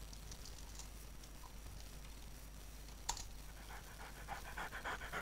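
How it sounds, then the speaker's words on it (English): A zombie dog in 7 Days to Die pants in quick, rhythmic breaths, faint and growing toward the end, with a sharp click and soft keyboard tapping in the quiet background. "Zombie dog."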